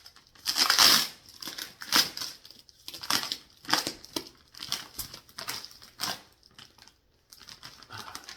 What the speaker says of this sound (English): We're tearing away the outer packing film, rolling it out, and then cutting it open.